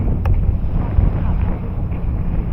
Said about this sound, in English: it's windy out here today, folks